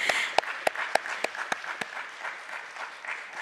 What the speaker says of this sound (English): This deserves a big round of applause.